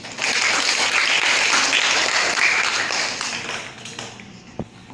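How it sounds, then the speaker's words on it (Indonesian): A classroom of students claps in applause during a biology lesson, a dense burst of clapping that holds steady for about three seconds and then thins out, with a few scattered claps at the end. "benar sekali, tepuk tangan untuk ini"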